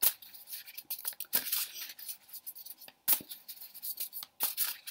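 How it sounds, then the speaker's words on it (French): Tarot cards from an Angel Wisdom deck being shuffled by hand, a run of soft papery riffling and rubbing with several sharper slaps, close and fairly quiet with no talking. "Vous mélangez vos cartes"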